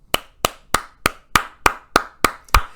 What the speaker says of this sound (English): I can't help but give Stockmo a round of applause